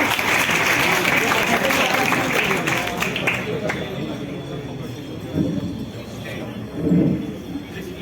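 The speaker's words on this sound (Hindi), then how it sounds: "एक बार तालियों से स्वागत।" A crowd at a Dainik Jagran student awards ceremony in Padrauna, Kushinagar applauds to welcome a local legislator, steady dense clapping from many hands that gradually softens, with a few scattered swells and voices near the end.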